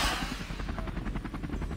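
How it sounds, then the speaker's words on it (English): Helicopter in the Rec Room video game flying nearby, a steady rhythmic rotor chop thumping at an even pace, fairly loud and alone with no talking. "Wait, that was a helicopter."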